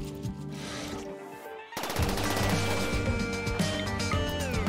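Gunfire in the video game RimWorld, a quick burst of shots cutting in partway through over steady game music, mid-loud with no talking.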